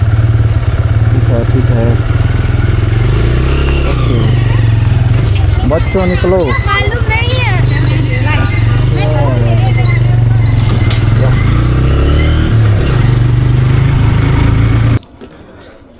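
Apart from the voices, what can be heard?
motorcycle engine running while riding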